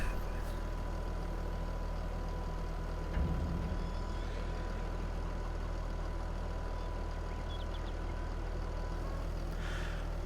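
A Fendt tractor with a large trailer tipping barley in Farming Simulator 22 gives a steady, loud low engine drone with a constant hum throughout, and a brief thump partway through.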